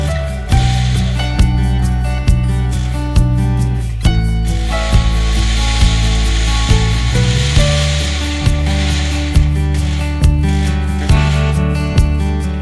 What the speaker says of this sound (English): I cut out the slot in the mast to be able to hoist the sail.